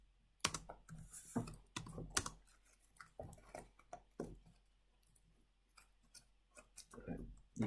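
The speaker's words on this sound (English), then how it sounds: "Jack, stop typing." Someone typing on a computer keyboard in a room, irregular bursts of quick clicky keystrokes with short pauses, close but fairly quiet, with occasional other small handling noises.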